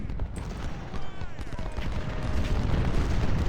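Cannon artillery fire from the Ultimate General: Civil War strategy game, a steady rumbling barrage of booms and blasts that swells louder over a few seconds, dense and continuous with no speech.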